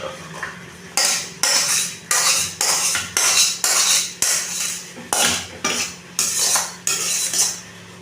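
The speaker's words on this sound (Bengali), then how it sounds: "এবার আমি ঘুগনিটাকে অন্য পাত্রে ঢেলে নেব।" Chicken keema ghugni scooped from one pot into another, a series of about a dozen sharp metal spoon scrapes and clanks against the pot in a steady rhythm, close and loud, without speech.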